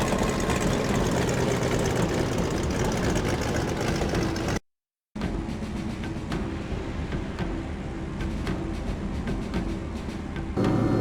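Steady, dense roar of an ME-262 jet engine idling in the Heroes of the Pacific video game, running continuously near and loud with a brief dropout midway.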